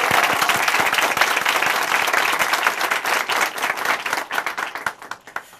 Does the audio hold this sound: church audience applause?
yes